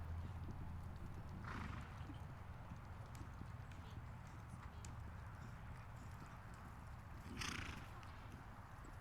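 Horse hooves cantering in a riding lesson, a steady rhythmic clip-clop close by and loud, with a neigh and an instructor's voice at times.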